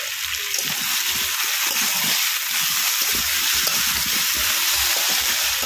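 Ginger-garlic paste goes into potato curry frying in a pan, giving a steady hiss and sizzle of hot oil with soft stirring scrapes, close and even throughout, with no voices.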